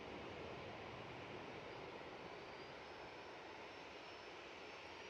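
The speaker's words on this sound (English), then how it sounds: "There's that EasyJet has just come in." EasyJet airliner arriving at Manchester Airport, a steady, broad jet roar that holds fairly evenly throughout at moderate distance with no talk.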